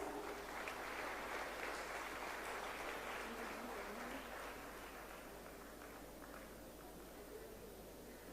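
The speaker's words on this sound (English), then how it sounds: "Please give a big round of applause." Applause from the audience at an international health summit, a broad steady wash of clapping heard at a moderate distance that slowly fades.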